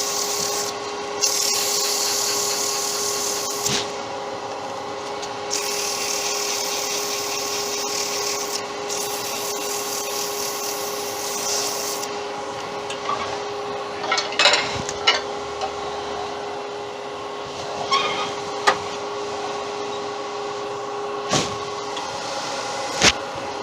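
Sandpaper rubs a spinning wooden cylinder on a lathe, a steady hiss over the constant motor hum, with scattered knocks and clicks toward the end; close, fairly loud and without speech.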